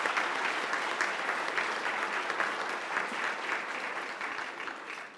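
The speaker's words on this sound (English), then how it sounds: "If you give them a round of applause." Sustained applause from an audience at a memorial dedication ceremony for Walter Cronkite, thick continuous clapping from many hands that fades slightly toward the end.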